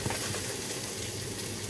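Onions sautéing in a pan as the base for moules marinières give off a steady, soft, even sizzle for a brief moment, with no voices.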